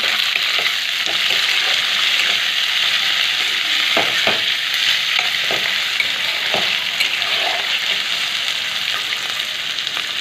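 Tomatoes sizzle loudly and continuously in a hot pan while cooking methi shak, with occasional clicks and scrapes from stirring.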